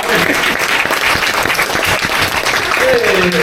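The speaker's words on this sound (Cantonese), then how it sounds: "俾啲大啲嘅掌聲" A street ministry audience on Temple Street in Hong Kong claps steadily, the dense applause loud and close throughout, with a voice briefly audible near the end.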